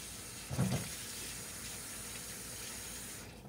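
Water pours into a pot of homemade beef stew, a steady continuous splashing rush with a brief louder burst near the start, heard close and alone.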